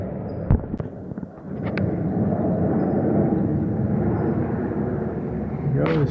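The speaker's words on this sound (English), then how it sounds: "We got a big plane." A large airplane passes overhead a rural ranch, its engine roar building into a sustained, broad rumble that continues steadily after a few sharp knocks at the start.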